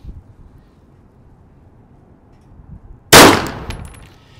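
A single loud gunshot fired at a target about 10 yards downrange while zeroing a Vortex Defender-ST red dot sight, a sharp crack after quiet outdoor ambience, followed by a short decaying ring.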